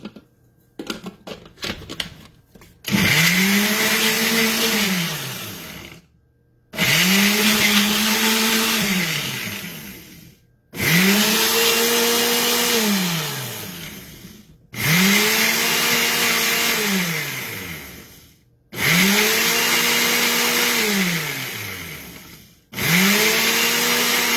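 A blender mixing homemade popsicle mix with orange juice runs in five or six loud bursts of a few seconds each, its motor pitch rising and falling with short silent pauses between bursts.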